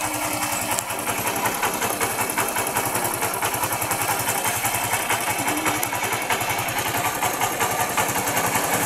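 A motorcycle engine runs steadily at idle, a close, continuous throb with a fast, even pulse and no break across the whole stretch.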